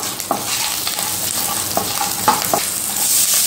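Green chillies and curry leaves sizzle in hot oil in a pan while being stirred, a steady close crackle with several sharp scraping strokes spread through it.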